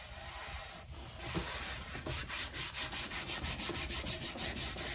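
An IOD Rose Chintz decor inlay is laid onto a wooden dresser and rubbed down by hand, producing close, rhythmic scraping strokes that speed into a steady, even series of brisk rubs.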